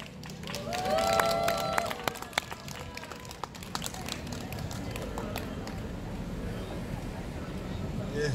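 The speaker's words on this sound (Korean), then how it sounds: "박수 한번 부탁드리겠습니다" An audience applauds at a memorial evening for the 53rd anniversary of President Syngman Rhee's death as a guest walks out to join a discussion. The clapping is steady and crowd-wide, with voices briefly heard at the start.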